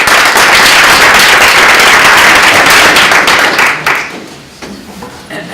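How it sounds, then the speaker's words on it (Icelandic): A large audience at an Icelandic evening panel debate gives a speaker a long, loud round of applause. The dense clapping stays steady, then thins out and fades away toward the end. "Gefið Benjamín Sigurgeirssyni gott klapp."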